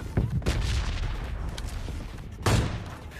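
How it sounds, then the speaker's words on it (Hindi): K98 sniper rifle shots in the video game PUBG Mobile Lite: two booming cracks about two seconds apart, each with a short echoing tail, over steady game background noise. "राइट साइड से K98 का शॉट मारता मेरे पे एक बंदा"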